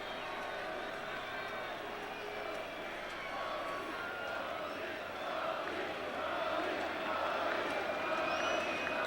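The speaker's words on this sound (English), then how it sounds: "Clark can hear his name being chanted by the sellout crowd at Tiger Stadium." A sellout crowd at Tiger Stadium chants a batter's name in a Twins–Tigers baseball video game, a steady, dense roar of massed voices that swells slightly toward the end under faint commentary.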